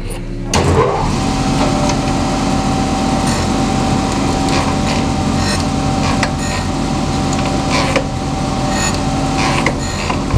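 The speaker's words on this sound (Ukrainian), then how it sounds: "Будемо зараз шліфувати." A power sander whines and grinds continuously against an uneven wooden table top, loud and close, with occasional scraping bursts as it moves.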